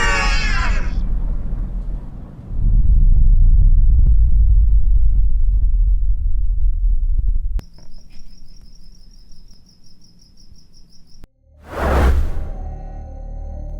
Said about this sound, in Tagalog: Unti-unting bumalik ang huni ng kuliglig at mahihinang patak ng ulan